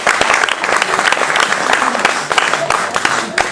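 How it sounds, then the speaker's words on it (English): An audience at a presentation breaks into loud, close applause, dense clapping with sharp individual claps standing out, filling the few seconds. "Give her a round of applause."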